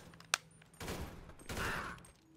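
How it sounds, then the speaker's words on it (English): Gunfire in the video game GTA 5 produces one sharp close crack followed by two longer bursts of rapid shots that sound like a fusillade. "I'm gonna shoot you in the arm"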